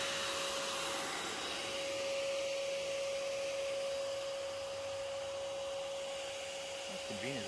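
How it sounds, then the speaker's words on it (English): A wasp vacuum runs at a hornet nest in a tree outdoors, sucking up hornets as they return. A loud, steady motor whine holds a fixed tone throughout, and a faint voice may come in near the end. "the more that I get vacuumed up from as they're coming back from foraging"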